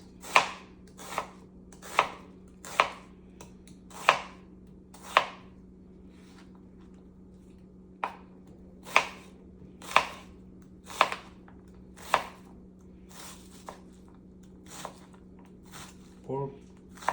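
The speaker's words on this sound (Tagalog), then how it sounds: "Iwa po tayo ng sibuyas." A knife chops onion on a cutting board in a steady series of sharp, close knocks, pausing briefly midway before resuming, with a low steady hum underneath.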